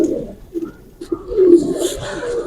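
Pure-bred Hera Lal pigeons coo in low, throaty, rolling calls, close and fairly loud, with a few short breaks between bursts.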